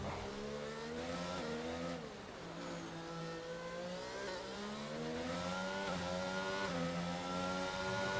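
A Ferrari Formula 1 car in an F1 racing game at Monaco: a high, screaming engine rising and falling in pitch through gear changes, steady and fairly loud, with no talk.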